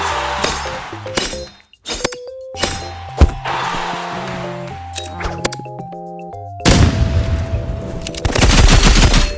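Rapid bursts of paintball gun fire in the Rivals video game as NPCs are shot down, loud clattering volleys broken by short gaps, with tonal game sounds underneath and a dense barrage near the end.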